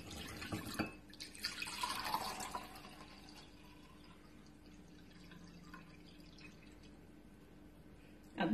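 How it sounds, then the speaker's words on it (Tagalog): Soaking water is poured off rice into a cup in a kitchen, starting with a brief splashing pour, then trickling and dripping that fades to faint drips. "tatanggalin natin yung tubig ng ating pinagbabaran"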